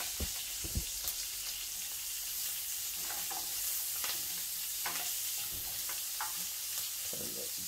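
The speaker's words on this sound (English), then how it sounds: "Saute our asparagus" Asparagus sautéing in a pan, giving a soft continuous sizzle with scattered light scrapes and taps of stirring throughout, fairly quiet and close.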